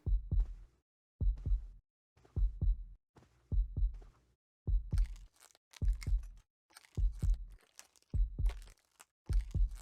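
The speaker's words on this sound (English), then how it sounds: "the only thing you hear in here is just your heartbeat" Slow, steady heartbeat thumps in a quiet video game training level of Splinter Cell, each paired beat low and close, repeating about once a second with nothing else around them.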